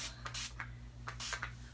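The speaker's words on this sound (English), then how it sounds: "I'm going to spray my scalp" Several short hissing bursts of scalp lotion spray, close and quiet, in quick succession over a low steady hum.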